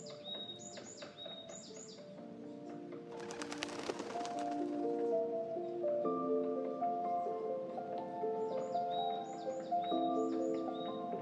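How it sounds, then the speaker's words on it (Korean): Birdsong along a forest walking trail: repeated bright chirps and whistled phrases from several birds, with a burst of busier calling midway, steady and moderately near over a quiet woodland background. "눈을 감고 들어보세요. 새소리 너무 좋지 않나요?"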